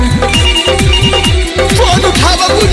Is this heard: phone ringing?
yes